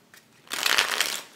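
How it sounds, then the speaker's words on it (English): A Hoyle clear plastic deck of playing cards is riffle-shuffled, giving a short, crisp burst of rapid flapping that swells after a quiet start and fades out. "These cards are easy to shuffle"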